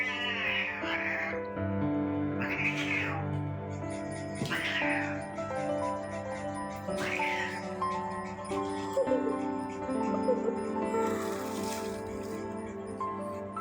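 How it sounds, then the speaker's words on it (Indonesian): A house cat just back home meows repeatedly, about five clear, close calls spaced a couple of seconds apart, with no talking. "Kucing aku baru pulang"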